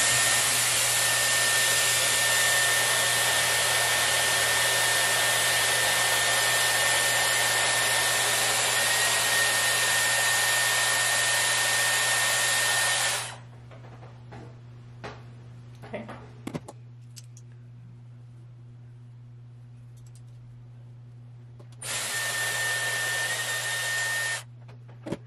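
A Dyson Airwrap blows a steady, loud rush of air while styling hair, cutting off midway and leaving near silence with faint handling clicks before the airflow starts again near the end.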